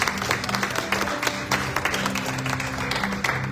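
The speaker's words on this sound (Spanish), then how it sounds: "Damos un aplauso bien fuerte al Señor." A church congregation applauds during a worship service, sustained clapping from many people heard at moderate level, with a low hum of voices or music beneath it.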